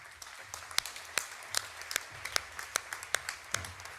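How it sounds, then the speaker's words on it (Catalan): Sparse applause at a CCOO union congress for the Bosch negotiator, a handful of distinct, fairly close hand claps spaced irregularly over a quiet room. "Aquest sí, un aplaudiment ja."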